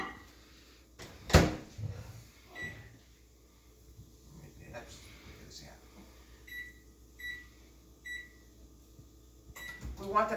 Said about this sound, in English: I'm going to pop this into the microwave